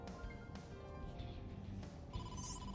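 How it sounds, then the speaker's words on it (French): An incoming phone call rings in the video game AI: The Somnium Files, a soft electronic ringtone sitting low under background game ambience and music, with no talking. "Hello, téléphone. Date, incoming call from the boss."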